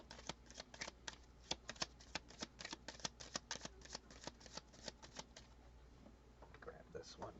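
Tarot cards being shuffled close up, a steady run of crisp riffling flicks and slaps repeating for several seconds, quiet and intimate, with a soft voice speaking near the end.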